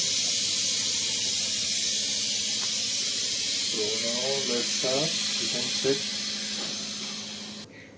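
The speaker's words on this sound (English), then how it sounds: "So now we can remove the steam." Steam hisses steadily from a pressure cooker after cooking sambar on a gas stove, a loud continuous broadband rush that runs nearly throughout, with someone talking over it in the middle.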